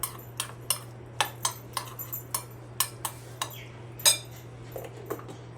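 A small spoon stirs a sabudana mixture with chili flakes in a bowl, giving a run of sharp, irregular clinks against the dish over a steady low hum.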